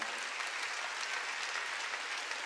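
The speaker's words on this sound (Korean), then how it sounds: "박수로 하나님께 영광 돌리고" A church congregation claps together during a Sunday worship service, a full, even wash of applause that holds steady without pause.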